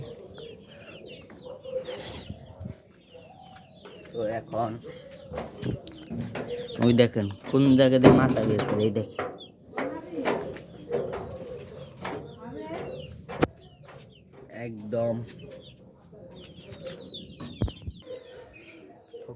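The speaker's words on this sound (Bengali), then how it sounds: "প্যাট হাউজে মুরগিগুলা আর কবুতরগুলা ছেড়ে দিবে" Chickens and pigeons stir in a pet house, with soft cooing and clucking scattered throughout while a person talks over them for most of the stretch.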